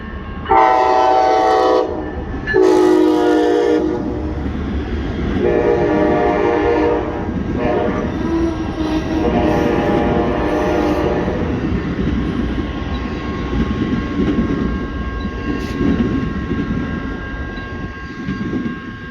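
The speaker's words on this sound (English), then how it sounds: "this Amtrak seems to run pretty frequently from here" Amtrak passenger train passing close by, opening with two loud horn blasts, then a long, heavy rumble of rail cars rolling past that slowly fades.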